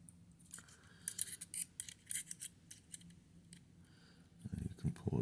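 A Leatherman Surge multi-tool gives a run of small, sharp metallic clicks and snaps as a blade is pushed and locked into place, close and quiet, with a soft handling rustle at the end.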